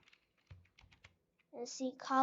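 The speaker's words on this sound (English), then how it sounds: "Then we're going to type a backslash." Fingers tap out a few quiet, separate clicks on a computer keyboard, and then a person starts talking.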